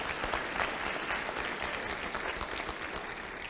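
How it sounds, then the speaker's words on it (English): A commencement crowd applauds faculty and staff at a university health professions graduation, dense sustained clapping filling the whole stretch at an even level. "Let's give a round of applause to the faculty and staff members who've been there for you throughout your education."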